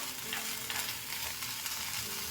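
Beans sizzling in a pan in rendered meat fat with onion, a steady, close frying hiss with soft crackles throughout and no voices.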